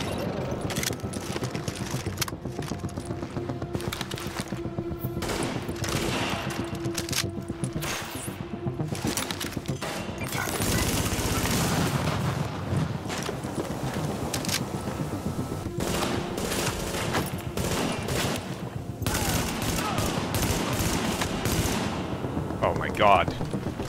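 Sustained automatic gunfire and bursts of shooting in the video game The Division, dense and loud throughout, with a voice speaking over parts of it.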